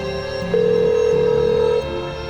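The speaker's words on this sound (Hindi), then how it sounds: "अब देखो रिंग जा रही, फोन ही नहीं उठा रहा।" A telephone ringback tone hums steadily for just over a second on an unanswered call, a single unbroken ring rising above low background sound.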